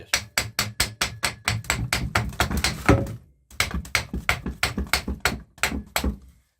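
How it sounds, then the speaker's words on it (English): Rapid knocks of a wooden mallet strike a metal hammer in quick steady series, a brief pause, then another run of sharp taps, close and fairly loud, while pulling nails from an old wooden rocking chair. "Take you a wood mallet or something and"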